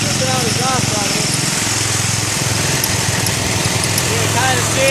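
A 1967 Case 155 garden tractor engine runs steadily close by, a loud, even small-engine drone with a constant pulsing rumble and no pauses.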